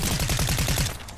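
Rapid, evenly spaced gunshots from a long-range weapon in a video game, about nine sharp reports in quick succession, loud and close, fading slightly at the end.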